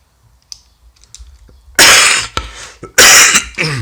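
Two harsh, loud coughs burst out close to the microphone, following a few quiet clicks and taps from handling a PMC-998 hybrid radio during a review.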